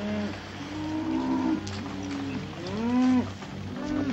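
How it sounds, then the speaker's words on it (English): Herd of cattle being driven in an old western: repeated drawn-out moos and bellows from several animals, some overlapping, over a steady low background rumble with no voices. "Keep the cattle moving."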